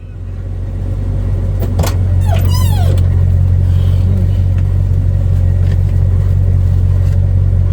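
A car engine idles steadily on a cold morning while warming up, a loud, constant low rumble close by throughout, with a brief chirping squeal early on.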